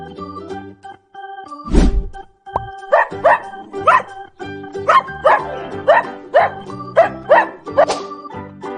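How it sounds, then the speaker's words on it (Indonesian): A dog barks in a rapid run of about a dozen loud, close woofs at a steady rhythm, set over light background music after a brief thump. "Anjing."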